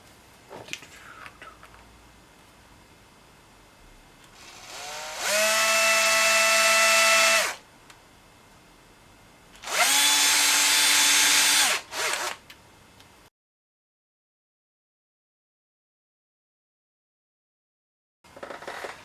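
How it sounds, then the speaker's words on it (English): A power drill whirs loudly in two sustained bursts, each about two seconds, spinning up and biting into a board, with brief quiet handling noise between and a silent stretch after. "with a drill is opener, drill the holes out"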